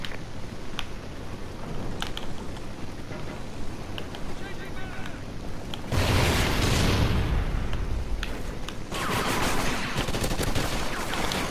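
Gunfire in the Call of Duty video game, a long stretch of dense rapid shooting and blasts from the game, with a louder burst partway through, under a constant rumble of game noise and a voice talking.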